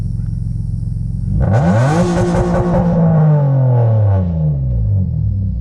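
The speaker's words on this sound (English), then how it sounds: "Now we're gonna try to record this, and it should rev higher" A 6-speed manual swapped Nissan Maxima engine idles, then rises sharply into a loud, high rev and holds there before easing back down, close by with no voices.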